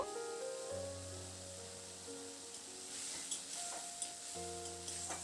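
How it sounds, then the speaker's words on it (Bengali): Spice paste and onions frying in a pan while being stirred for a home-style prawn and banana stem curry, with a faint, soft sizzle and occasional scraping ticks under steady tonal kitchen hum. "মশলাটা দিয়ে মিনিট দুয়েক মতো একটু নাড়াচাড়া করে দিচ্ছি মশলাটাকে বেশ একটু কষিয়ে নিলাম"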